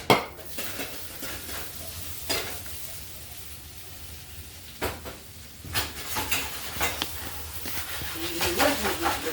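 Butter cooks in a pan with a soft, steady sizzle while utensils clink and scrape against the cookware every so often.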